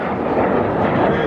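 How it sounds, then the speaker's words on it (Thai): Jet aircraft roar past at the MAKS 2019 air show in Russia, a loud, dense, rumbling broadband blast filling the short moment without speech. "ถ้าดูข้างหลังตอนนี้เครื่องบินก็ตัดหน้ากันอยู่เนี่ย"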